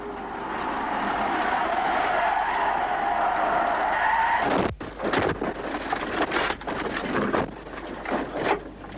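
A rally car on a stage loses its rear end and skids into a spin, a long loud tyre-scrubbing slide that ends abruptly, followed by rough bumps and wind buffeting as it clips a bank.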